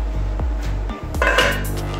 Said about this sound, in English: Give it a stir, you don't want it to stick to the bottom.